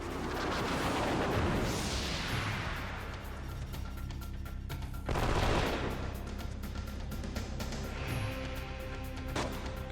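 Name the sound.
gunshots in the video game Wild Arms 3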